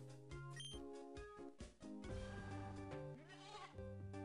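A goat Pokémon's cry in the Pokémon Clover video game, a bright synthesized bleating burst with tonal, chiptune-like layers, loud and continuous over about four seconds with no voices.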